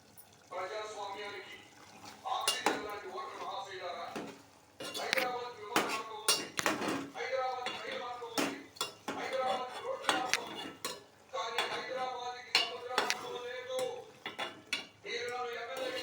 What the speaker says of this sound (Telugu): తిప్పుకుందాం.